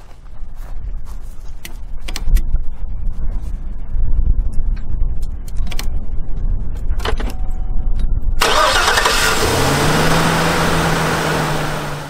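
Clicks and ticking, then a truck engine cranks from a portable jump starter and catches, settling into a loud steady idle.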